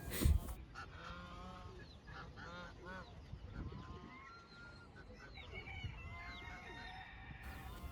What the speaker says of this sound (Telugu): పక్క నుంచి పావురాలు మరో పక్క నుంచి బాతులు కోడిపుంజులు చేస్తున్నాయి